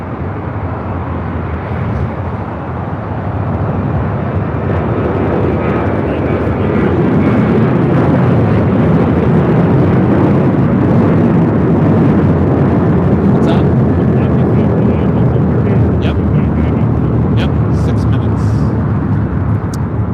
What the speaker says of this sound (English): We are showing you Qantas Flight 11 Super coming in from Sydney, Australia. Flight time, 12 hours, 44 minutes on this A380.